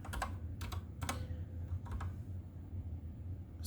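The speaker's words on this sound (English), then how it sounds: "it would be helpful if I typed the right letters" Typing on a computer keyboard, heard as several quick bursts of close, crisp key clicks separated by short pauses, with a quiet steady hum in the background.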